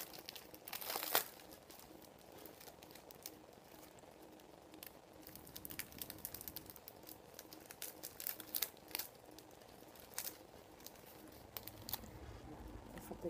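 Paper crinkled and peeled off small unicorn bottle caps, quiet close-up rustling and crumpling in scattered bursts, with a sharper tear near the start.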